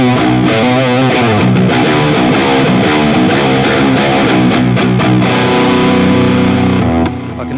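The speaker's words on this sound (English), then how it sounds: "I've got a overdrive special dialed up here, which is basically Dumble's hot-rodded Marshall." A 7-string electric guitar played through an overdrive amp set like a hot-rodded Marshall, a loud distorted riff of fast notes and chords that rings out steadily for several seconds, with no talk.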